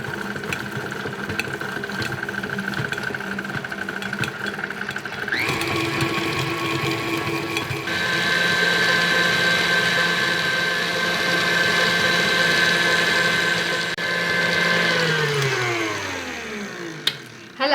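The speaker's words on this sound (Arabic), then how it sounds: "هلا بوقفها شوي للمكنه وبنيزل السمنه يلي بعد ما ضربتهم الخفاقه" An electric mixer beats ghee for Lebanese ghraybeh shortbread, a steady close motor whine that holds for a long stretch, rises in pitch partway through, then winds down and slows near the end.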